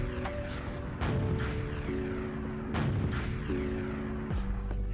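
Rocket launcher fire and blasts in Team Fortress 2, a Soldier rocket jumping: repeated booming shots over a steady engine-like drone, with about three strong bursts spaced a second or so apart.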